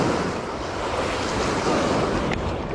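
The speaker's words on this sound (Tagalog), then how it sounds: "Lakas kasi ng alon" Strong sea waves churn and crash continuously at a fishing spot near Dagupan City, Pangasinan, a loud, dense roar of surf mixed with wind buffeting the microphone.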